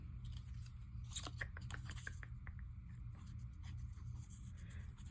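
A whale tail paper punch snips through paper in a short run of crisp crunching cuts around the middle, over a steady low background hum, with no talking.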